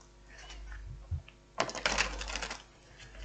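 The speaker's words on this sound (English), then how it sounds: "let's just give this a little shuffle" Tarot cards are shuffled close by, a quick flurry of crisp riffling clicks and rustles after a few soft handling sounds, fairly quiet overall.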